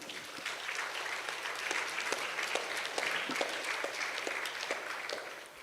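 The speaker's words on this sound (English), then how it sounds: "give them a second round of applause for their answers" Audience at an international yoga festival applauding panel speakers, a dense, sustained patter of many hands clapping at moderate distance without pause, no voices on top.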